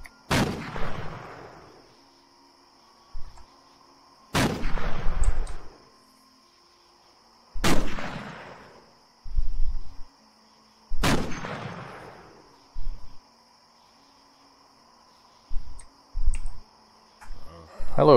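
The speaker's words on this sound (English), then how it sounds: "let's just take a few pot shots" Four sharp, loud gunshot bursts from the Cataclysm DDA video game, spaced a few seconds apart, each followed by a decaying echoing tail, with a steady electronic hum and a few softer thuds in between.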